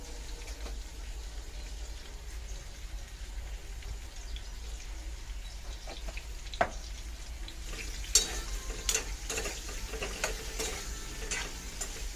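Eggplant cooks in oil with salt, giving a steady low frying sizzle throughout, with a few sharper scraping clicks of stirring near the middle and later on.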